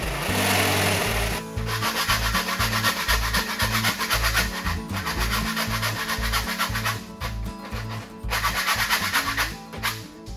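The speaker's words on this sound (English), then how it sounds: "Switched over to the file." A hand file works metal while a hole is finished out during a crossmember repair, heard up close as loud, rhythmic rasping strokes repeating steadily with brief pauses between passes.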